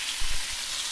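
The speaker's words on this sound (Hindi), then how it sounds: "अब लैम्प चॉप को पलटी करेंगे, दोनों साइड से हम पकाएंगे," Lamb chops fry in a pan, a brief burst of dense, close sizzling hiss with a soft low thump as the meat is turned, no voices.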